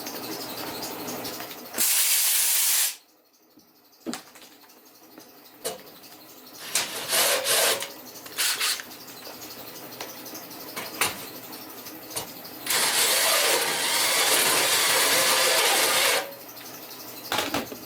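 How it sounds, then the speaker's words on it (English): An air compressor runs in a workshop where a pneumatic ATV tractor lift table is being modified. Loud bursts of hissing air start and stop repeatedly over a lower mechanical hum. "Yeah, we got that air compressor going."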